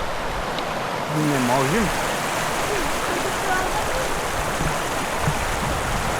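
Water pours over the spillway of the Bryagovo dam in the Rhodopes, a steady broadband rushing roar that stays loud and close throughout, with people talking over it.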